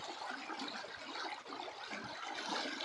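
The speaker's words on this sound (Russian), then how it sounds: "А у меня тут вот своя река." A small river of snowmelt runs steadily with a soft, continuous trickling wash, fairly quiet and even throughout, with no talking.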